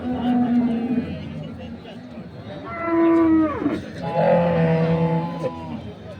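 Dairy cows lowing at a cattle market in Dinajpur, several loud, drawn-out moos rising and falling one after another over a steady background of crowd chatter.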